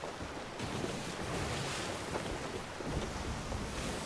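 Blustery wind roars over rolling waves and rushing water while sailing straight into a headwind in the video game Sea of Thieves, a dense, loud wash of noise that stays steady throughout.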